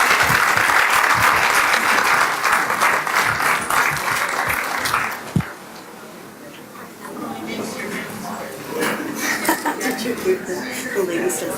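A crowd at a Catholic gathering gives a nun a big round of applause, loud and sustained for about five seconds, then fading as a voice begins talking over lingering claps and room noise.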